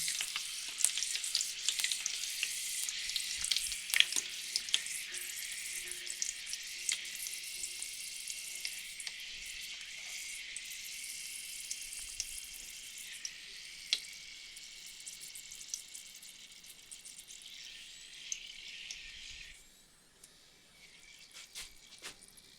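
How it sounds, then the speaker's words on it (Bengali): Curry leaves frying in hot oil give a steady, bright crackling sizzle throughout, with faint scattered pops and clicks, dropping off and quieting near the end. "তেলে দুটো দুটো কারি কারি পাতা দিয়ে দিচ্ছি তো পাতা পাতাটিও এখানে ভেজে নিচ্ছি"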